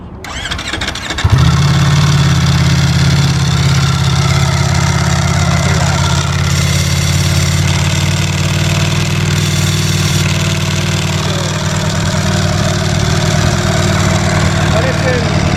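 Lamborghini Streetfighter STO motorcycle engine, brand new, cranking briefly and then catching into a loud, steady, close idle that holds for the rest of the clip, with no revving.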